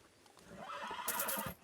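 Horse whinnying in the Western video game Red Dead Redemption, one brief, fairly faint neigh rising to a shrill peak before cutting off, with a hint of hoof clops.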